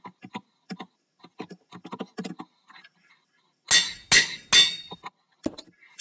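A Minecraft anvil gives three loud metallic clanging strikes in a row, after a run of quiet game clicks and key taps, with no voices.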